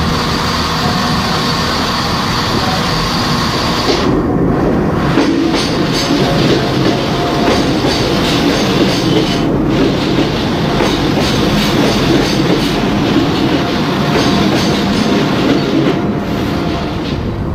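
A train pulls into Chester railway station, a loud continuous rumble of wheels on rail with clickety-clack and occasional squeals of braking wheels throughout.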